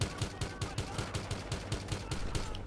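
Rapid automatic gunfire in Battlefield Hardline, a steady burst of evenly spaced shots at a quick rhythm, fairly quiet and heard without talk.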